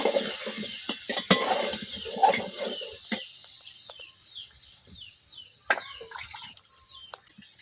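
Tempering spices sizzling in hot oil in a pan for a village-style fish curry, with soft crackles and stirring scrapes, louder in the first few seconds then fading to a quieter sizzle with occasional sharp pops.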